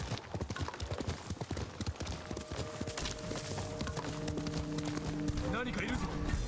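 Horse hooves clip-clop in steady galloping rhythm in Ghost of Tsushima gameplay, with game music rising partway through and a person talking over it.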